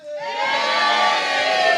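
A studio audience at a comedy show bursts into loud, sustained cheering and whooping, swelling quickly and holding at full volume.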